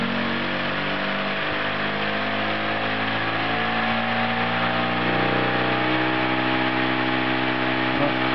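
An enhanced alternator converted into a motor runs at full speed on a speed controller, a steady loud electric whine with layered tonal harmonics that hold constant and rise slightly toward the end, with no voices.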